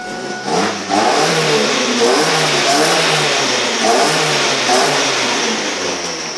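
A Ford Focus engine with an exhaust leak revs repeatedly in rising and falling pulses, loud and close, with a raspy, ticking exhaust note beneath the throttle blips.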